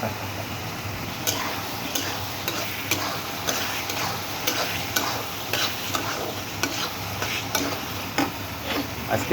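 Small bata fish frying in a pan, a steady sizzle with a low hum underneath, broken by repeated sharp clicks and scrapes of stirring throughout, close and alone without voices.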